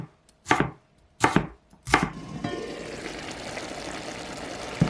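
A knife chopping a bell pepper into small squares on a board, three sharp, loud, separate cuts about a second apart, followed by a steady low background hiss.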